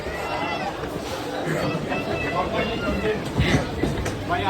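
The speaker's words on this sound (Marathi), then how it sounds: "चल चल चल, ट्रेन आली." A Mumbai local train rumbles in on a busy platform during Ganesh festival crowds, steady rail noise mixed with crowd chatter and a nearby voice talking over it.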